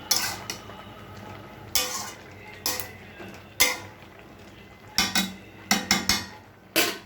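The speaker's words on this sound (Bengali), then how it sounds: "আবার ঢাকা দিয়ে দিই।" A lid goes back on a cooking pot of pumpkin and pui shak ghonto with prawns: several sharp metallic clanks and rattles, close and fairly loud, spread across a few seconds with quiet gaps between them.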